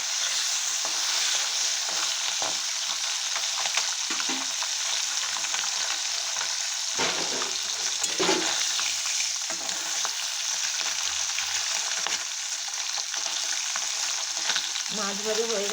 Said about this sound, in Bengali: মাছ ভাজা হতে হতে আমি সবজিগুলো কেটে নেব।